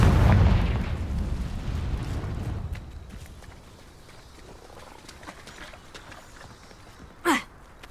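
A Confringo blasting spell in Hogwarts Legacy goes off at the start as a heavy, rumbling explosion. It fades over a few seconds into quiet ambience, and a brief sharp burst follows near the end.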